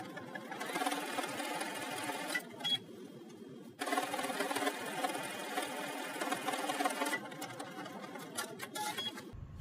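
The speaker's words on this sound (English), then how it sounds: "take it to the machine and you're going to stitch right down the middle through the elastic ruffle and the actual dress" A sewing machine straight-stitches an elastic ruffle onto a dress bodice in a loud, close, rapid mechanical whir, running in long bursts broken by two short stops.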